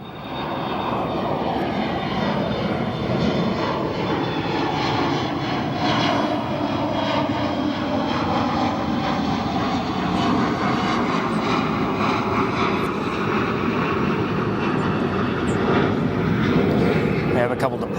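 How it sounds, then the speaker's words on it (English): An American Airlines Boeing 737 turns off the runway at O'Hare onto a high-speed exit, its jet engines holding a loud, steady roar for the whole stretch while someone talks over it. "just exiting off onto the first high-speed exit to Papa 2. And all the lights on now for an American Airlines 737"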